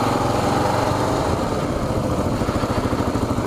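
A Kawasaki KLR650 single-cylinder engine runs close by, a loud, steady thumping drone with a rapid pulsing beat that speeds slightly as it goes, with no voices.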